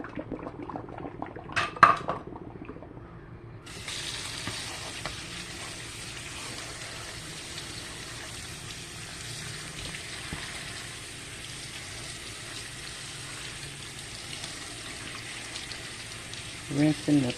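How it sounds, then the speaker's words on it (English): Water pours and splashes steadily into a sink as boiled potatoes are drained and rinsed, with a clatter of a pot near the start and brief voices at the end. "So I'm going to drain this starchy water off and rinse my potatoes off."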